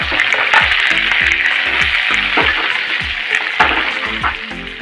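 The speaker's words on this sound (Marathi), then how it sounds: "1 चमचा मोहरी टाकली, परतून घेऊ आपण त्याच्यात।" Mustard seeds in hot oil for a raw mango dish, crackling and popping steadily with sharp spits over a continuous sizzle, close and loud, no voices.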